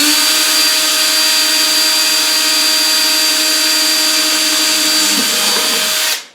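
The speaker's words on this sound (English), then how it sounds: "drill a hole for the cord right here" A power drill whines loud and steady while boring a hole for a cord, its pitch dropping briefly near the end before the motor cuts off.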